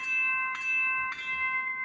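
A model train locomotive's sound-decoder bell strikes twice about half a second apart, each clang followed by a sustained metallic ringing tone, with no voices.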